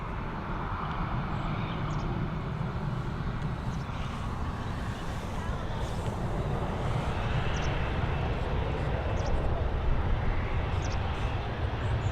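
A jet aircraft takes off at Dublin Airport, its engines a loud, steady, broadband roar that holds evenly throughout, with no voices over it.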